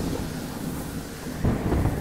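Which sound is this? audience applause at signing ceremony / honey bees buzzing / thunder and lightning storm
thunder and lightning storm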